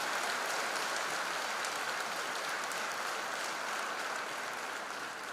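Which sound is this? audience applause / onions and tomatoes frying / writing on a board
audience applause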